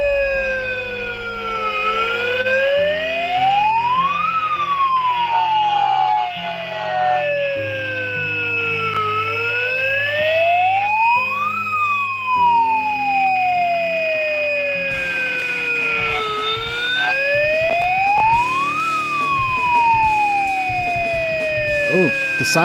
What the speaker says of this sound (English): Oh, the siren matches the music.